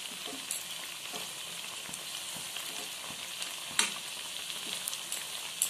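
Semolina pakoras deep frying in hot oil give a steady, even sizzle with soft crackles and a couple of sharper pops, close and continuous throughout.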